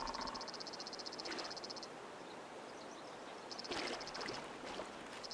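A frog in the video game Retreat to Enen gives repeated rapid trilling croaks, quiet and somewhat distant, in two bursts separated by a pause, over soft ambient water and insect sounds.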